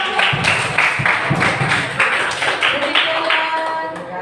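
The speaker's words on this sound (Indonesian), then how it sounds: "tepuk tangan untuk" A classroom audience claps together in a steady, rhythmic beat for a student group's presentation, with voices mixed in among the claps.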